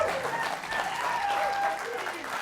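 A studio audience at a televised talk show breaks into steady, sustained applause that fills the whole stretch at close range, with a few whistle-like tones riding on top.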